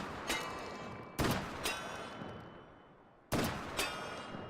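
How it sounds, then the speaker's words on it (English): Shotgun slug shots from an M1014 in a VR shooting game: three sharp, loud single blasts spaced a second or two apart, each followed by a short echoing tail and a fainter mechanical clack. "If I shoot this here, you can see that is just shooting that single gigantic slug"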